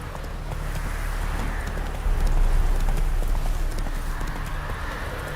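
Hooves of the horse in The Witcher video game beat out a rapid galloping clip-clop, close and steady, growing briefly louder partway through, with no talk over it.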